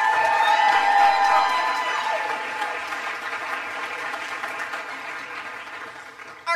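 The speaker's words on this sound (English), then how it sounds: "Let's give them one more round of applause." Audience applause with cheers and whoops for school choirs at a Broadway-themed dessert concert by the high school and middle school choirs, a dense wash of clapping that stays loud and slowly tapers off.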